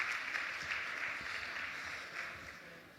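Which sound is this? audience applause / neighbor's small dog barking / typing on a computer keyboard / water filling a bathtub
audience applause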